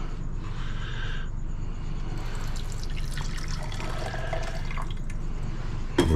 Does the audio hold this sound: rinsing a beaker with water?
yes